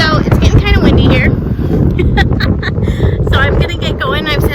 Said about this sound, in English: So it's getting kind of windy here.